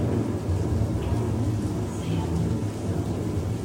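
Thunderstorm and rain sound effects in the Carousel of Progress show, a steady heavy wash of rainfall with low rumbling thunder, continuous and fairly loud.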